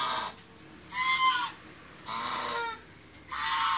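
Geese honking on a village farm in three loud, nasal, close bursts separated by short pauses, with faint background noise between calls.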